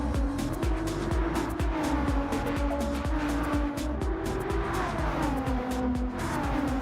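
Race cars pass in quick succession during a race, engines rising and falling as each one sweeps by, with tire squeal and a steady mechanical drone throughout.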